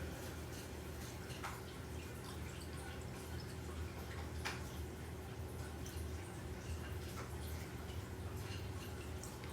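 Water poured into a container holding an egg for an osmosis experiment, a quiet, steady trickle with faint drips over low background noise, no talking.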